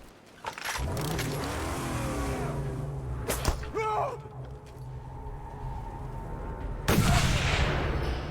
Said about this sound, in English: I can potentially shoot him from here